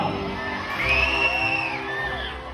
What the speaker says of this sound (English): Come on, we cheer for them.